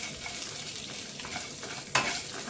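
Curry leaves fry in a little oil over a medium flame for majjige huli, giving a steady, moderate sizzle with light stirring and one sharp metallic clink of a spoon against the pan.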